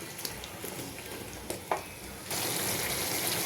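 Papaya, potato and soybean chunks sautéed with spices in a pan make a moderate sizzle with a few clinks and scrapes, and the frying grows louder and denser toward the end.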